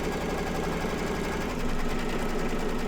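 An embroidery machine stitching down an in-the-hoop mug rug, a steady rapid mechanical whirring hum with fast regular needle pulsing, close and continuous, with no talking.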